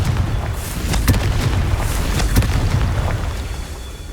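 Rumbling magical blasts from the Confringo fire spell in Hogwarts Legacy on PS5, several sharp bursts around one and two seconds over a low booming roar, loud and close with no talking.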